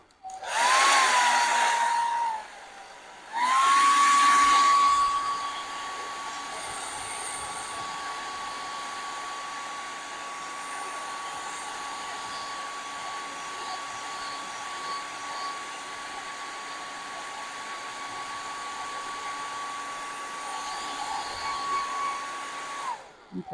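A hair dryer blows on wet paint on a Gelli printing plate, a loud steady whir that starts, stops briefly, then runs continuously for about twenty seconds with a high whine.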